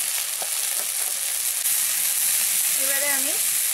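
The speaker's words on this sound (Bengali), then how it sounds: "আমি কাজু বাটাটা দিয়ে দিচ্ছি, আর জিরে আর ধনে গুঁড়ো দিয়ে দিচ্ছি।" Cashew paste with cumin and coriander powder sizzling in a pan for a cauliflower curry, a loud continuous hiss with a brief tonal squeak near the end.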